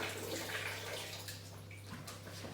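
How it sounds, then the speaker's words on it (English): Hands being washed under a running kitchen tap, a steady, faint rush of flowing water over a low background hum, with no talking. "Again, hand wash, give me a second."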